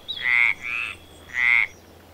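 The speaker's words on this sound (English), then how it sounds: "Frogs like to sing after the rains." Three loud croaks from a frog, close by, in an uneven rhythm with short pauses between them, against a quiet background.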